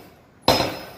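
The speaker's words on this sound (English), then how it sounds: "So then the hammer goes up and down." A homemade spring-driven power hammer strikes metal once in a forge: one sharp, loud ringing clang that decays over about half a second after a quiet lead-in.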